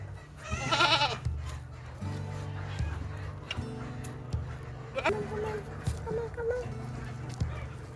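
A lamb bleats with a short wavering cry at a livestock farm in Oman, near and fairly loud, followed by fainter animal calls, scattered clatter and a steady low hum of farm background noise.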